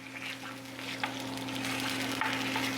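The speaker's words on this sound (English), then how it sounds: "that little bit of sizzle there. That's always a good sound." Food frying in a pan gives a steady close sizzle with light crackles and a couple of soft stirring clicks, and no one talks over it.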